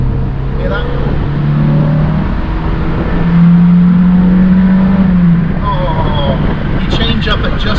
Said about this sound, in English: I don't get a rasp from the exhaust, but I do get quite a nice throaty thrum